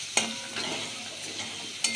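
Salted spice paste being stirred in a pan for cauliflower and egg curry, a soft continuous scraping with a gentle sizzle and a couple of sharper spoon knocks against the pan, close by with no talking.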